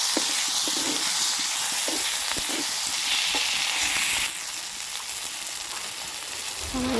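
Onion and chopped tomato fry in a pan for pointed gourd tel jhal, giving a close, steady sizzle with clicking stirs that softens slightly partway through.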